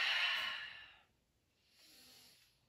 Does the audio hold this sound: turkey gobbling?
no